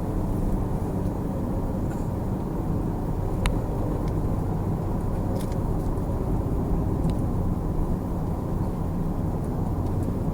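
A lorry rumbles steadily along a road, heard as a continuous low engine and road roar from inside a vehicle, with no talk.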